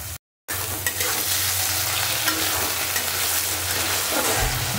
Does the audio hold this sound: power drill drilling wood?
no